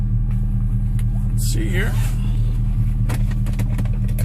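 A 2000 Chevrolet Silverado 1500 pickup idles with a steady, close, low engine drone, while someone speaks briefly and a few light clicks sound inside the cab.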